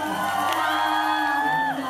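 At a live concert, a crowd cheers and whoops for a young singer, with a sustained wash of shouting voices and strong held tones carrying above it, loud and steady throughout.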